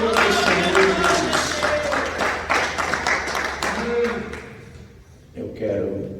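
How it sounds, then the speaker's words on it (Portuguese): Church congregation clapping in praise during a worship service; lively rhythmic hand claps from many people, fading toward the end, with voices mixed underneath. "as palmas que louvam e exaltam o nome do Senhor"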